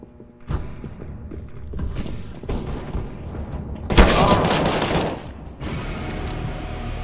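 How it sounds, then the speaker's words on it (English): Flashbang grenade bursting in Counter-Strike: Global Offensive, a loud bright blast around midway through ongoing game gunfire and thumps, with brief speech in the background. "Flashbang."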